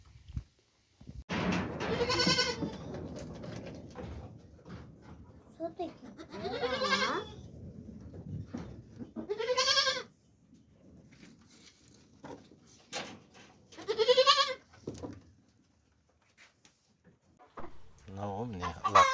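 Young dairy-line goat kids, two-month-old males for sale in a village yard, bleat in several loud, wavering calls spaced across the clip, with quieter rustling between them and other animal sounds nearby.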